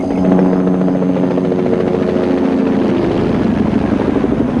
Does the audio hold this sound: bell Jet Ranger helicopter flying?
yes